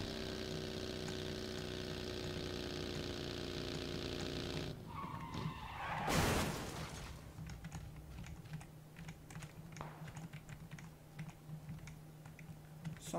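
Car in PUBG Battlegrounds driving on a flat tire, a steady engine drone followed by a sharp tire skid and scraping, with keyboard typing clicks throughout.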